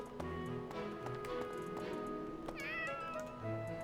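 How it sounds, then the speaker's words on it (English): Cats meow repeatedly in the video game Fire Emblem: Three Houses, with several distinct mews over steady game music and faint tapping footsteps, no talking. "You can't pet the cats,"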